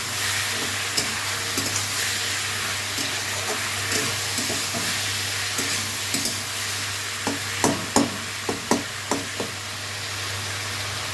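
Fish curry sizzles steadily in a pan as salt and tomato go in, a constant hiss of frying broken by a cluster of light knocks and scrapes of a utensil against the pan.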